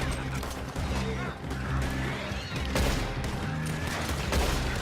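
Dense, continuous gunfire in Red Dead Redemption 2 Online crackles throughout, with rapid overlapping shots and booms over a steady low rumble, loud and close.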